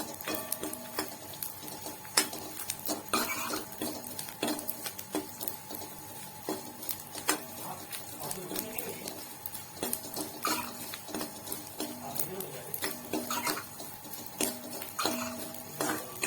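Edible gum roasting in a pan for ladoos, crackling and popping as it puffs up, with scattered small crisp ticks and clinks of the pan running steadily throughout, fairly quiet and with no talking.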